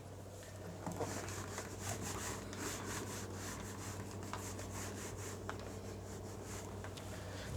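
A duster or cloth scrubs writing off a board in a lecture room, making continuous rapid back-and-forth rubbing strokes that sound close and steady for several seconds.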